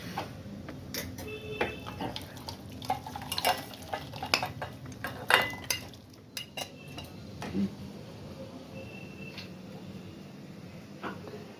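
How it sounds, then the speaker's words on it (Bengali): Goat meat curry with garam masala being stirred in a pot, a spoon or ladle scraping and clinking against the metal in irregular bursts over a low background hum, with no talking. "এরপরে আমি এটা গরম মশলা দিয়ে একটু নেড়ে নামিয়ে দিব।"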